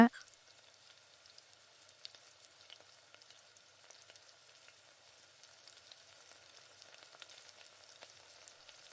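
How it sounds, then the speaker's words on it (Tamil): Spoonfuls of spiced kara paniyaram batter meet an oiled paniyaram pan with a soft, steady sizzle and faint crackle that hold evenly throughout, quiet and close with no talking. "இப்போ இந்த மாவை கொஞ்சம் கொஞ்சமாக கரண்டியில் எடுத்து ஊற்ற போகிறோம்."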